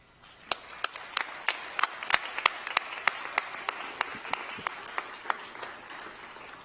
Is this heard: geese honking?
no